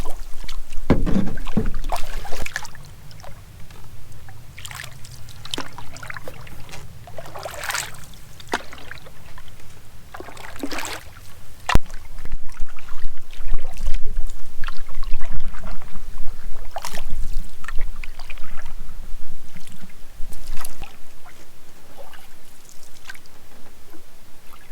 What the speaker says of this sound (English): I'm out for a solo paddle